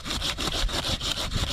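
A hand saw cuts through tree wood outdoors on a coastal mountainside, making about eight steady, evenly paced rasping strokes close to the microphone with no talking.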